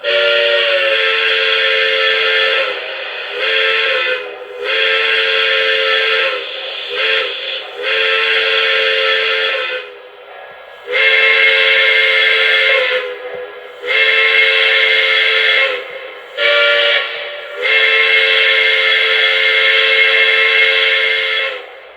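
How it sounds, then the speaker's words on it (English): A Lionel Polar Express Berkshire toy train's steam whistle blows loud and shrill in repeated long blasts separated by short gaps, close and with no talking. "here's the whistle steam again"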